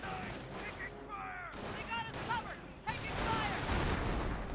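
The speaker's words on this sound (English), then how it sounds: "Good shot there by the Sherman tank." A Sherman tank fires its main gun in Company of Heroes, a World War II strategy game, with sharp booming blasts over dense battle noise, whistling shell sweeps and other gunfire, and a voice talking faintly.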